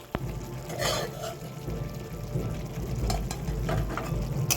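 Fried potatoes going into a sizzling fish curry masala for doi kalia, a steady close frying hiss with soft stirring scrapes and occasional clinks against the pan.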